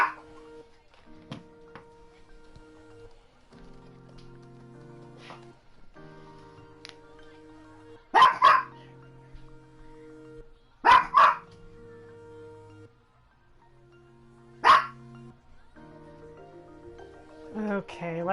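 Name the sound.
dog barking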